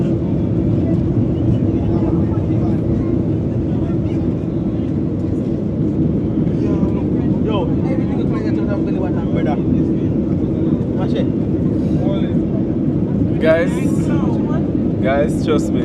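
Steady, loud cabin roar of an airliner in turbulent flight from Panama to Jamaica, a constant broadband drone filling the whole stretch, with people talking intermittently over it.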